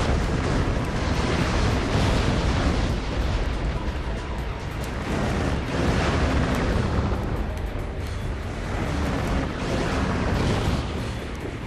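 Bomb explosions in the game Ratchet & Clank 2 pile up into a dense, continuous roar of loud booms and bursts that rises and falls in waves for about twelve seconds.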